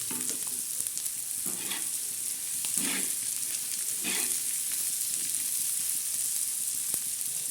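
Onions frying in a pan for a prawn and onion chutney, a steady close sizzle and hiss throughout with a few soft stirring scrapes rising over it.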